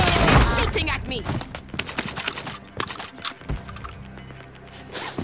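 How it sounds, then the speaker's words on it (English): Scattered gunshots and bursts from the Warzone Pacific battle royale on the Caldera map, with sharp cracks sounding irregularly beneath an excited voice and game noise. "He's shooting at me."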